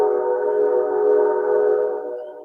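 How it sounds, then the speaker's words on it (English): A sustained, harmonic train horn blares steadily for a couple of seconds, tapering slightly at the end, with a low rumble beneath. "Can hear the train."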